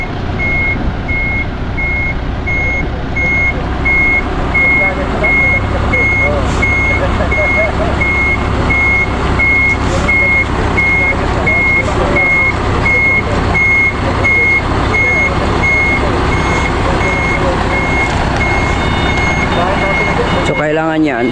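A trailer truck backs up during driving training, its reversing alarm beeping in a rapid, even series over a loud, steady engine rumble, with a brief clatter near the end.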